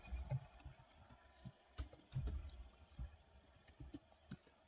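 Light typing on a keyboard while text is entered into a Google Form, soft close key clicks in short irregular bursts with quiet pauses between.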